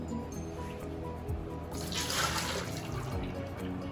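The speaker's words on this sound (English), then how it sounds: "we're left with this bowl of potato liquid. We're going to dump that out now." Starchy potato liquid is poured out of a bowl in one splashing rush midway, running briefly over a steady low background hum.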